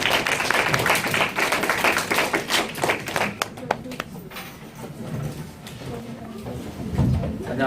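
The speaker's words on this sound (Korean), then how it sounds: "박수로 환영합니다." An audience at a lecture applauds to welcome a speaker, with dense clapping for about four seconds that thins out and fades, and voices murmuring underneath.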